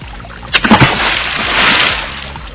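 A few quick, loud splashes of water in succession, followed by a lingering slosh and rushing water.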